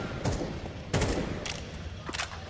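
Pistol shots crack in a Counter-Strike 2 pro match on the Ancient map, several sharp reports spaced irregularly over a steady, noisy game background, fairly close and loud.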